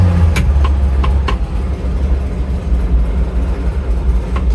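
Classic Fiat 500 engine running with the clutch pedal held in, giving a steady low rumbling drone with a rough, awful-sounding noise and a few sharp clicks over it, close and alone.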